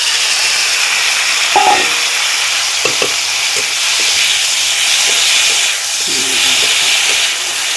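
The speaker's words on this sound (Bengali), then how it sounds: "তারপরে দেখো আগের থেকে ধুয়ে রেখেছিলাম মসুর ডাল দিয়ে দিচ্ছি।" Washed red lentils (masoor dal) go into hot spiced oil, producing a loud, continuous close-up sizzle and hiss, broken by a few soft clinks of stirring, with no one speaking.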